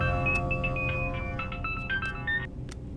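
A phone's ringtone plays a repeating melodic pattern of bright electronic tones, fairly loud and steady over a low background hum, with no talking.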